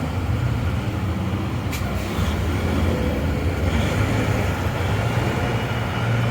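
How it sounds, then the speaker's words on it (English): A long freight train rolls past container-terminal trucks in a city's south end, its wheels binding and squealing around a curve. The grinding rumble stays steady and loud throughout, with a brief higher screech near the two-second mark. "The wheels are kind of binding and making a racket."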